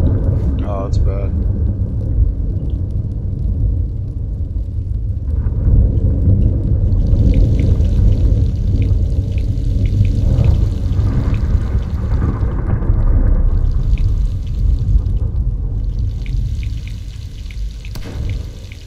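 A heavy storm roars continuously with dense rain and low rumbling thunder, loud and steady throughout with brief, fainter hiss bursts layered on top.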